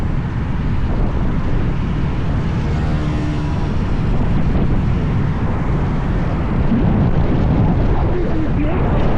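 A used Teverun Fighter Supreme electric scooter pulls through its gears during a speed test, heard as loud, continuous wind roar and road rumble that completely swamps everything else, with no clear voice.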